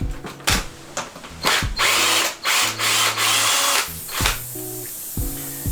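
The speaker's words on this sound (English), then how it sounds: "Let's get the screw out." Power drill backing a screw out of a roof, whirring in repeated short bursts with pauses between, close and fairly loud.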